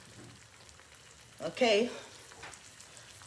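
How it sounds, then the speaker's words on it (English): Eggs fry in a pan on a home stove, a soft steady sizzle with one brief louder burst of crackle partway through, while a person speaks briefly over it. "so frying some eggs"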